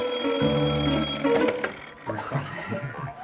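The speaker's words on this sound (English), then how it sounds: "Number 6, an alarm clock." An alarm clock rings loudly and close for about two seconds with a bright sustained metallic tone, then cuts off into quieter shuffling noise.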